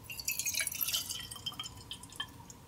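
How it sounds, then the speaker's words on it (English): Clean water trickles and drips into the bottom glass of a gravity hookah, with light splashy, uneven droplets and a faint glassy ring, quiet and close. "I recommend filling the bottom glass a little over 3/4 full of clean"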